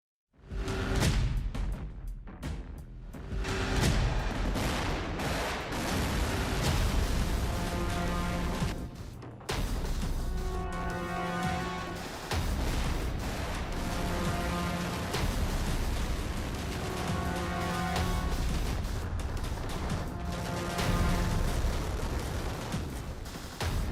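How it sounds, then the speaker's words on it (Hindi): Missiles launch in a North Korean weapons test, a dense roaring rush with booming blasts and sustained rumbling whooshes, loud and continuous with short breaks between launches. "नई पीढ़ी के अस्त्र से दागी मिसाइल्स, 100 किलोमीटर तक भारी तबाही।"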